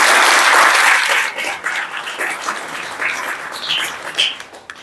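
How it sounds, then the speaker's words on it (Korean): Audience applause after a poetry recitation at a talk concert, a full, loud burst of clapping that gradually thins out and trails off, with scattered claps continuing to the end. "박수 한번 보내주세요."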